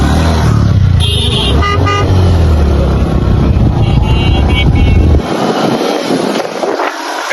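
Motorbike riding along a road on Eid, with a loud, steady engine and wind rumble throughout, brief horn toots early on, and the low rumble dropping away near the end.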